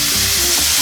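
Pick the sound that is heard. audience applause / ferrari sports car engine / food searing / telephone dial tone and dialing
food searing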